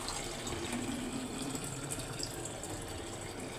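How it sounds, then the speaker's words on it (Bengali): Water gushes steadily into a pot in a home kitchen, a continuous close rush with a low rumble beneath, unbroken for several seconds and without speech. "পানিগুলো সাইকে নিতেছি মামপটে"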